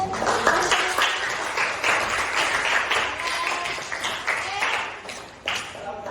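Classroom applause at the close of a school lesson, a dense patter of clapping hands from a group of students that continues for several seconds, fairly close, with voices mixed in.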